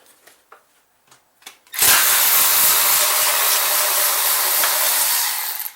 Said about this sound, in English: if I start my Milwaukee ratchet, right, before I hit the bolt, it breaks it